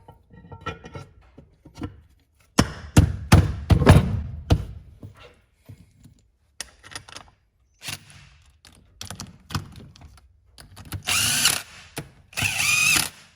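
Bolts being tightened with a power tool on a John Deere LA165 tractor's hydrostatic transmission, heard as several short whirring and ratcheting bursts with pauses between them, close and fairly loud, with no talk.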